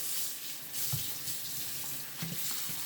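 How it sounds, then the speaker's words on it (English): Tap water runs steadily into a sink as raw beef, one piece with bone in, is rinsed for a Filipino beef mechado, with a few soft splashes and knocks of the meat against the basin. "gonna go ahead and wash our beef"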